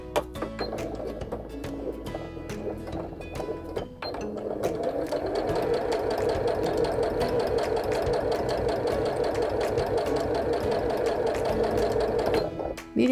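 Janome 780DC sewing machine stitching fabric, a steady rapid mechanical whir and needle clatter that starts after a brief pause and runs continuously, close and fairly loud, with no talk.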